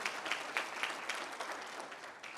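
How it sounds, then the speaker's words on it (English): An audience at a youth empowerment gala gives a short round of applause, a dense patter of many hands clapping at moderate distance that fades slightly toward the end. "let's give her one more round of applause"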